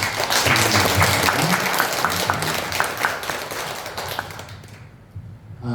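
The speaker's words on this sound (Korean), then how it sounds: "우리 찬양하는 우리 학생들 선생님 다시 한번 박수로 한번" A church congregation at a Sunday afternoon service claps for the student singers and their teacher, dense applause with a few distinct claps standing out, tapering off near the end into quiet.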